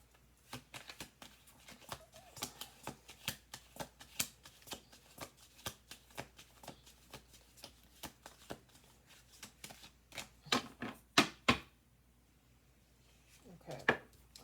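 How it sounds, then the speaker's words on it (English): Tarot cards are shuffled by hand in a long run of soft, rapid riffling taps and slaps, close and fairly quiet, with a few louder snaps near the end. "We'll do one more shuffle."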